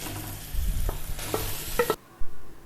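Grated egg added to frying masala in a pan for a stuffed omelette, with close, loud sizzling and spatula stirring and scraping, which stop abruptly before a final soft knock.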